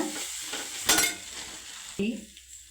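Sliced onion with turmeric and spices fries in a pan for a simple onion gravy, a soft sizzle broken by two sharp scrapes of a spoon against the pan, close and fairly quiet.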